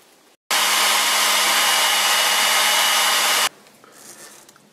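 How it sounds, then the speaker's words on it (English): Heat gun blowing hot air to dry glue on a wet wood rot repair: a steady, loud broadband whoosh that switches on abruptly, runs for about three seconds and cuts off, leaving quiet room tone. "I will speed up the drying with a heat gun."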